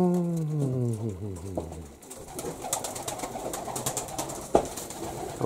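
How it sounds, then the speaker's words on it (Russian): Pigeons coo inside a crowded dovecote on a morning visit, with a low, drawn-out call at the start giving way to busy rustling, shuffling and scattered clicks from many birds nearby. "Вот это вот старый голубь, породистый."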